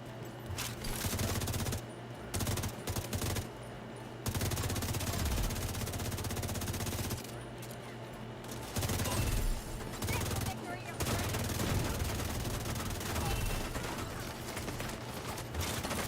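Automatic turret in The Division 2 firing sustained bursts at the player, loud and close, with brief gaps between volleys and game sounds mixed in.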